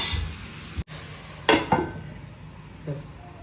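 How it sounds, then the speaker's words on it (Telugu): A metal lid set on a cooking pot of amaranth leaf curry, giving a sharp close clatter and a lighter clink, with a faint pan sound later and no talk. "జరసేపు మూత పెడదాము, మగ్గుతుంది."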